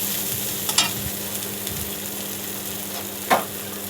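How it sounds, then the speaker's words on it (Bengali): Rita fish curry sautéing in a wok, a steady close sizzle with scattered scraping stirs and one sharper clack near the end. "ভালো করে কষিয়ে নিতে হবে, যাতে কড়াইতে ফেনা হয়"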